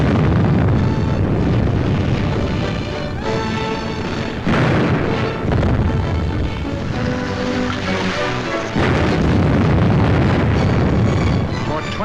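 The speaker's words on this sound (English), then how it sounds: "The huge guns subjected the city to a bombardment of incredible fury" Heavy artillery pounds a city during the invasion of Poland, a sustained roar of explosions and booms with rolling bursts, loud under narrating speech.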